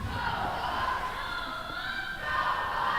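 Hockey players in an ACHA Division 1 rink, Colorado Buffaloes in white, yell and cheer themselves on before puck drop, a dense steady crowd-like roar filling the arena with no distinct commentary over it.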